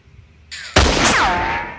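A single sharp gunshot effect in a Thai comedy show bursts out loud and close after a brief whoosh, its blast trailing into a ringing, descending tail.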